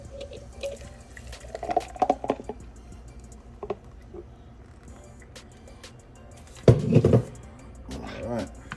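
A weight gainer drink is poured into a cup in a kitchen, giving a couple of splashy, gurgling bursts of liquid filling the cup, close by, with talk in the background.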